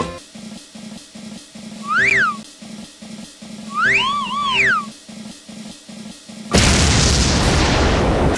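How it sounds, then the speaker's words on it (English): A cartoon whistling-bomb effect: descending and wavering whistles come in over a rhythmic music bed, then a sudden loud, noisy explosion burst takes over at the end. "The long bomb!"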